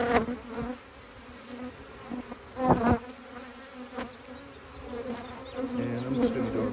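Honey bees from a swarm caught in Ozark, Missouri, buzz around an open hive in a busy, continuous drone, with individual bees zipping close by in louder passing swells.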